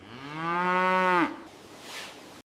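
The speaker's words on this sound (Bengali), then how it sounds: "এখানে রয়েছে আমাদের হলস্টিন ফ্রিজিয়ান গরু, গাভী ও বাছুর।" A Holstein Friesian cow on a dairy farm lets out a single loud, close moo lasting over a second, followed by quieter farm background.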